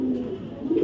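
A female racing pigeon gives a single soft, low coo, close and brief.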